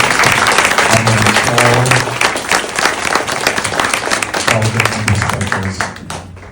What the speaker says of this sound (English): give a big round of applause to the people who are about to perform with you